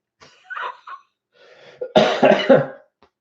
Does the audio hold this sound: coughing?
yes